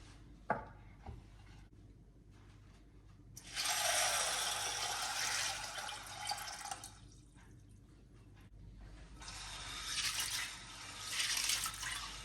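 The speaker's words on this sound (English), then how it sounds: "let's go ahead and wash our beans first" Beans being rinsed in water before cooking, with two long bursts of running, splashing water separated by quieter drips and clinks of handling, heard close with no talking.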